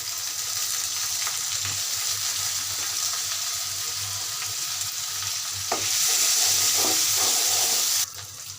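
Shrimp sizzle and fry in a pan while being stirred for a bottle gourd stir-fry, a steady close hiss with scraping stir strokes, briefly louder near the end.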